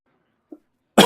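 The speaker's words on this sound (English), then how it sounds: "not the best way to start a video with a cough" A single sharp cough bursts out loud and close at the very end, after a brief faint throat sound and near silence.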